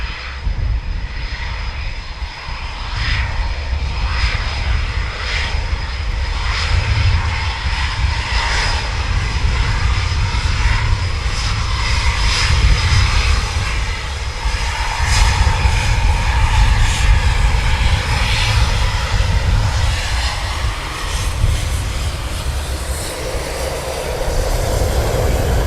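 Aircraft taxiing past at RAF Coningsby on a windy day, a loud steady engine roar with high whine that holds throughout and swells slightly as one passes close by, no voices.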